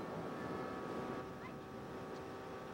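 A runaway boat speeds along with its engine running fast, a continuous mid-distance drone mixed with wind and water wash, and no voices.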